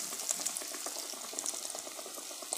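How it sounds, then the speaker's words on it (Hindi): Chicken nugget chocobars frying in oil produce a soft, continuous bubbling crackle with scattered tiny pops, fairly quiet and even throughout. "चलिए फ्राई करते हैं।"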